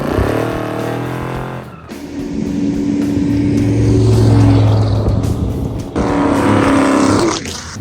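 A 1956 Chevy's engine on historic Route 66 revs and roars loudly up close, rising and falling through several bursts of acceleration with a brief pause between pulls.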